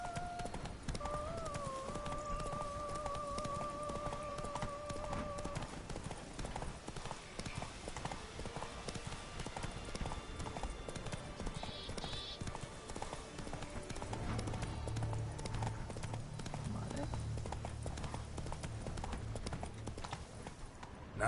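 Roach, the horse in The Witcher 3 video game, clip-clops along in steady rhythmic hoofbeats, moderately loud and continuous, under game music and ambient sounds.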